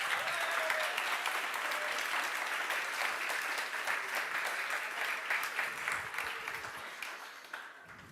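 Sustained, even applause from a gathered audience at a Friday group meeting, many hands clapping steadily for several seconds and thinning slightly near the end.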